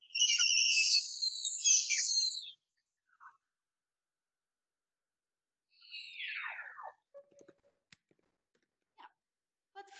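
Beluga whale calls in an amplified underwater recording: a loud burst of high chirps and whistles, a brief pause, then a descending squeal followed by scattered faint clicks, heard alone against near silence.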